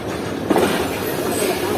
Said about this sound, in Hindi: और अब ट्रेन हमारी जो है वो मीरपुर खास लाइन में चढ़ रही है।